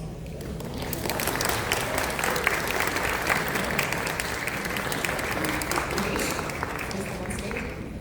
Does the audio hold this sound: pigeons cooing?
no